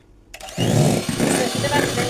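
Egg whites being beaten with sugar and half a packet of vanilla, an electric mixer whirring up loudly after a brief quiet start and then running in a steady, pulsing drone.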